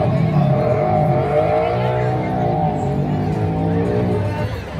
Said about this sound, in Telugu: బావిలో 2 మారుతి కార్లు 3 మోటార్ సైకిళ్లతో మరణ పోరాటం